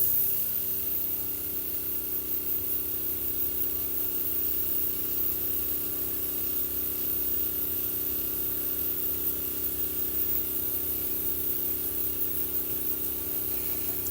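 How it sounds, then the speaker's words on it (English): An airbrush sprays paint onto Warhammer miniatures with a steady, close hiss and a faint compressor hum underneath, running unbroken for the whole stretch with no talk. "Airbrush, brushing with the air."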